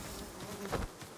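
Bees buzzing in Ghost of Tsushima, a brief close and fairly loud insect drone that swells for a moment near the end. Nobody speaks over it.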